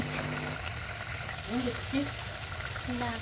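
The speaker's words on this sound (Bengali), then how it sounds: "ভাত রান্না করে ফেলেছি, আর এখন তরকারি রান্না করা হচ্ছে" Curry simmering and sizzling in a pan on a home stove, a faint, steady frying hiss running throughout with a few soft tonal beeps or squeaks in the background.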